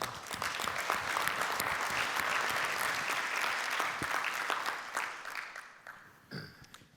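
An audience at a conference panel on AI in public services applauds steadily and loudly for several seconds to welcome a panelist, the clapping thinning out and fading toward the end.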